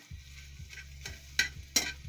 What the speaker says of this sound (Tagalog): Ito na yung itlog na niluluto ko, tinotorta ko siya.